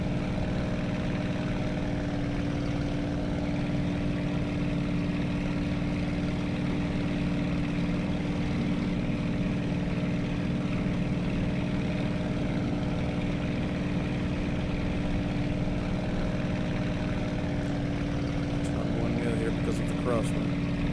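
A throttled-back aircraft engine in the World Flight VR game drones at a steady moderate level, a continuous propeller hum with a faint rumble and no clear change in pitch.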